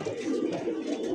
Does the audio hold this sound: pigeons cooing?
yes